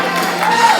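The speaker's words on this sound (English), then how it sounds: "give a big round of applause for everything that Greg said that I know you weren't listening to" Loud, dense applause and cheering from an audience at a pet fashion show awards event, a continuous roar of clapping with raised voices, brief and close.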